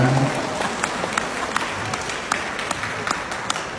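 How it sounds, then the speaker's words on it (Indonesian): Audience applause for Mbak Sita at a gathering, a steady wash of many hands clapping at close range with a few sharper claps standing out, continuing throughout without talk. "tepuk tangan dulu buat Mbak Sita"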